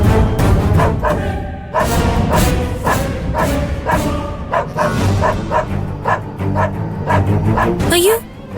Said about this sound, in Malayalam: ഇതെവിടുന്ന് ഈ പട്ടി കുരയ്ക്കുന്ന ശബ്ദം കേൾക്കുന്നേ?